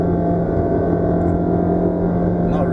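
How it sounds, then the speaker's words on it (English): A Honda City Hybrid engine labors steadily while climbing a hill, giving a loud, continuous droning hum heard from inside the car with no break in the tone. "When you're fighting hard to climb up the hill, the engine sound is a bit sporty"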